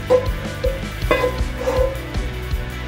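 Zucchini slices frying gently on low heat in a pan, with a soft steady sizzle and occasional scrapes and knocks of a spatula stirring them, no talking.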